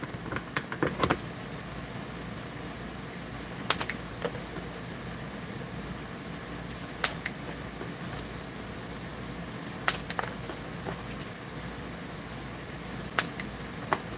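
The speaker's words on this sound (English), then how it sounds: "This is also just a pair of heavy-duty scissors." Heavy-duty scissors cutting thin card, giving sharp isolated snips at irregular intervals over a low steady background hum, with no voices.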